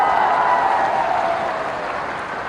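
Large rally crowd in Chambal clapping together in a dense, steady wash of applause, loud and close, slowly easing off toward the end.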